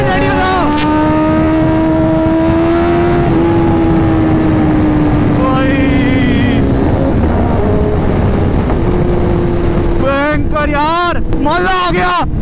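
Kawasaki ZX10R sport motorcycle at full throttle in third gear, race mode, loud engine whine climbing steadily in pitch with wind rush, close and continuous, then gear changes with rising revs near the end.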